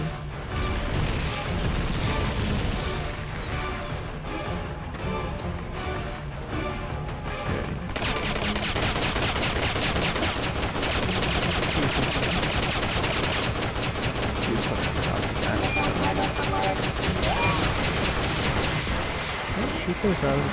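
Dense, continuous rapid gunfire from the video game Metal Gear Solid Peace Walker, loud and relentless throughout, with crashing impacts and a voice talking over it.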